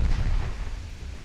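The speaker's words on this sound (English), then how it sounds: "Torpedo hits." A torpedo strikes a ship in the naval battle game Ultimate Admiral Dreadnoughts, giving a heavy, rumbling explosion that starts loud and booming and then slowly fades.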